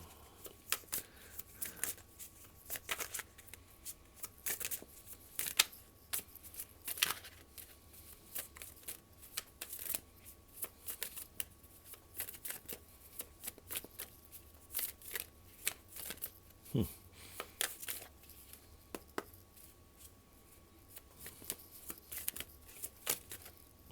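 Tarot cards being shuffled continuously and at close range, a steady run of soft riffling flicks and snaps at an irregular rhythm, quiet and alone with no talk.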